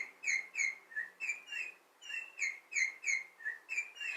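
A small bird chirps rapidly in a steady repeating rhythm, bright two-note tweets roughly three per second, clear and close with no other sound.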